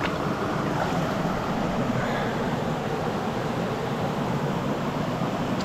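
A New Zealand mountain stream rushes over slippery rocks after a heavy rainstorm, giving a steady, dense, unbroken roar of water close to the microphone with no voices.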